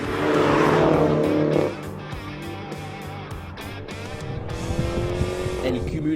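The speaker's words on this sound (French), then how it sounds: "On ne se lasse pas également de la sonorité du moteur et du crépitement à l'échappement" Small sporty car engine with crackling exhaust, a loud revving burst at first, then dropping to a lower engine note with sharp pops and crackles under a voice.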